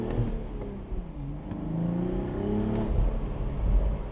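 A 2025 BMW Z4 M40i roadster's engine revs and climbs through rising and falling tones, with deep low rumble and a few sharp blips, close and fairly strong with no talking.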